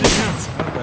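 A quick, loud burst of gunfire in the Apex Legends video game, a sharp crack followed by a short echoing tail, with a voice briefly mixed in.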